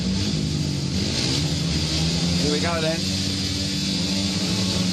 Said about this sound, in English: Revs come up now.